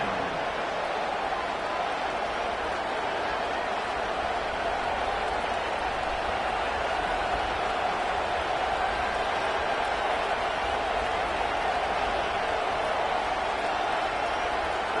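Steady, continuous stadium crowd roar in a college football video game, a broad even wash of noise holding at one level throughout, rising slightly later, as the field goal unit lines up late in a tight game.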